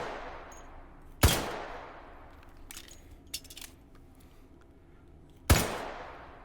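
Two sharp, loud single gunshots from a 1911 pistol fired in the H3VR virtual reality shooting game, about four seconds apart, with a faint clatter between them and no talking.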